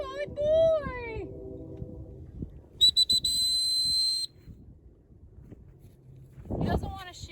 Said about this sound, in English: I've given him one come whistle